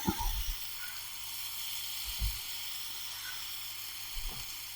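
Pineapple pieces roast in a pan for curry, giving a soft, steady sizzle with a few faint low thumps, quiet and close.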